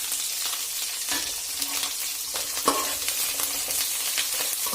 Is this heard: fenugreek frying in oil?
yes